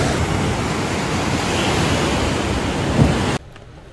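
Ocean surf at a beach on Nusa Penida rushes in a loud, steady wash mixed with heavy wind buffeting, then cuts off abruptly near the end.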